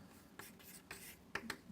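Pen or chalk writing by hand, short scratchy strokes in quick irregular bursts, faint and close with a quiet background.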